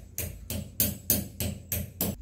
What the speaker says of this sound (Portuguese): Então eu vou pegar o martelo e pra dentro.